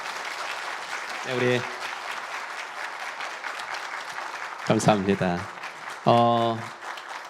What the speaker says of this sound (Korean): 우리 한번 큰 박수 보내주시기 바랍니다